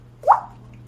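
A single mouth-made water drop imitation, a short resonant plop that rises quickly in pitch and then fades against a low steady hum.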